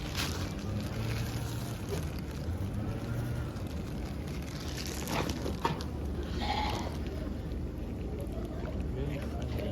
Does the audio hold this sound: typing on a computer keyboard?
no